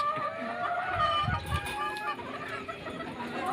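Cockerels from a gamefarm line cluck and call continuously outside a farmyard, a busy overlapping chorus of poultry sounds with steady background noise, close and moderately loud.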